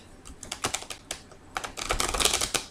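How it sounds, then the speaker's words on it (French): A deck of cards is shuffled by hand, producing quick, close bursts of riffling and flapping clicks that grow denser toward the end, with no talk. "Donc, je procède toujours à bien mélanger, bien sûr, les cartes."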